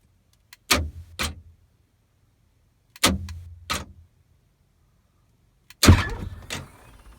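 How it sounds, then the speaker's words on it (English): A DeLorean gull-wing passenger door opening under a Wings-A-loft powered lift, heard as three separate bursts of mechanical clunks and whirring actuation, each a pair of short strokes, the last louder and longer, alone in a quiet setting. "Now we're going to open the passenger door."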